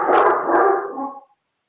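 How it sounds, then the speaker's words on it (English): Dogs bark in a short, close burst of two or three rough barks lasting about a second before falling silent. "my dogs are barking"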